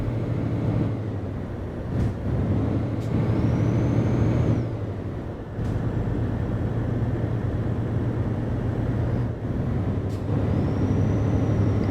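Truck engine in Euro Truck Simulator 2, a steady low drone from an S-way cab while driving in Denmark, with a few short air-brake hisses cutting in along the way.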